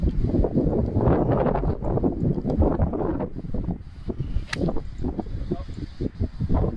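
Gusty wind buffeting the microphone in heavy low rumbles on a golf course, fairly loud and continuous throughout, easing slightly toward the end.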